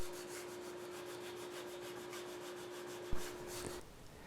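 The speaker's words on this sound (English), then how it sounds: "I'll just sand with the 150 now" Raw wood for a V-shaped guitar being sanded by hand with 150-grit sandpaper: a steady, soft, close-up rasping rub with faint rhythmic strokes, alone, under a constant low hum.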